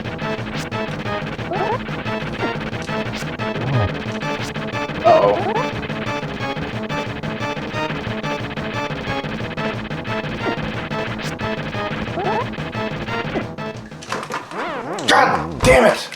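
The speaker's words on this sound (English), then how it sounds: "I think it's 5 spin attacks I've got to do with the normal sword." Link's sword spin attacks with the normal sword in Zelda: A Link to the Past, heard as repeated swooshing slashes and impact effects over continuous, loud game music, busiest near the end.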